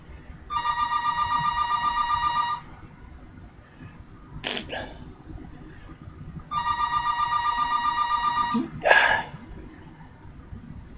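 A telephone rings in two harmonic bursts, each about two seconds long, close and loud. Each ring ends in a sharp clack, and there is no talk.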